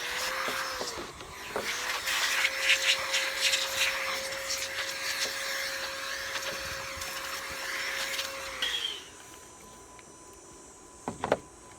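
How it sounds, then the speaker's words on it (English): An air blower clears wood dust from a Milescraft 1219 circle-cutting guide jig, a loud steady rushing whoosh with a thin whine running about eight seconds before cutting off, followed by a few faint clicks. "I got my blower here to blow everything out, get rid of the dust"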